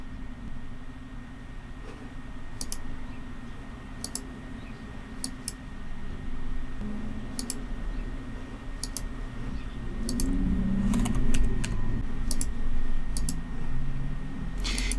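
Sparse, crisp key clicks from a computer keyboard as a password is typed on a Windows 10 PC, spaced irregularly over a steady background hiss and low hum.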